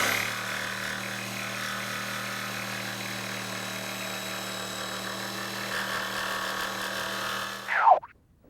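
A jigsaw cuts steadily through a workpiece for about eight seconds, a continuous buzzing saw drone at close range, then stops abruptly with a brief clatter as the blade comes free.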